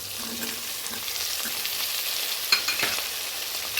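Green peas, potato and other vegetables fry in a pan for veg biryani, a steady hiss of sizzling oil with occasional stirring scrapes and clinks, close and continuous, with no talking.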